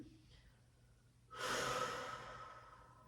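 A deep breath during a held Pilates stretch, quiet at first and then swelling into a long, close exhale that slowly fades.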